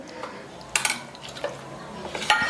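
Boneless chicken pieces dropped into a pan: several sharp metallic clinks and clatters of meat and utensil against the pan over a faint background hiss, heard close up with no talk.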